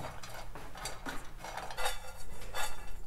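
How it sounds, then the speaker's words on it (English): Pecans toasted in a dry skillet on medium-low heat, stirred with a utensil that scrapes and clicks against the pan in quiet, irregular bursts, close and soft. "what I'm going to do is I'm going to toast these pecans on medium-low heat"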